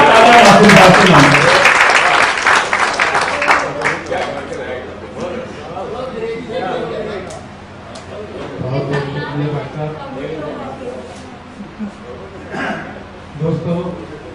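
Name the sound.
applause for a poet at a poetry gathering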